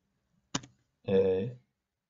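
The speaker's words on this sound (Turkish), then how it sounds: "Yine Shift ve 6 tuşlarına beraber basıyorum." Keys on a computer keyboard pressed together as Shift and 6, giving one sharp click, followed a moment later by a short tonal voice or sound.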